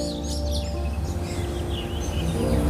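Scattered bird chirps and tweets over a steady low hum of background noise, moderately loud and continuous, with no talking.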